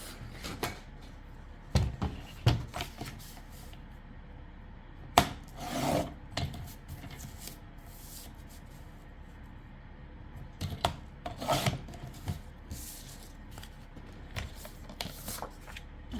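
Paper being cut to a 4.5-inch square for a card-making craft, with scattered scraping and rustling strokes and sparse cuts close by over a quiet room, with no talking.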